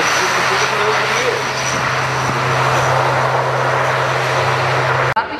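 A military jet taking off at an air show, a loud, sustained engine roar with a steady droning hum, continuing until a sudden cut near the end.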